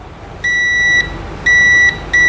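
Continuity-mode beeps from a multimeter probing two IC points near the boost coil on a mobile phone's display light circuit board: three loud, steady electronic tones, each under a second long, separated by short gaps over a quiet background.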